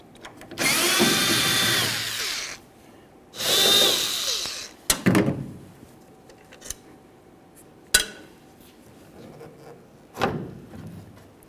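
A power drill driving out tail light lens screws on a 1998-2011 Ford Ranger, two long whirring bursts near the start followed by shorter clicks and brief spins, close and loud with no talk.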